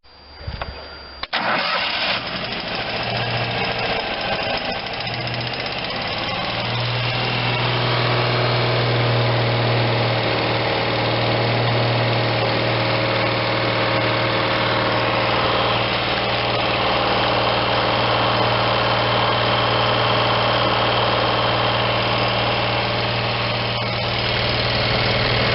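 The engine of a Vermeer BC625a brush chipper starts and then runs steadily, a loud, constant, close mechanical drone that holds for the rest of the stretch.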